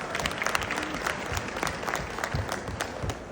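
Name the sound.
audience applause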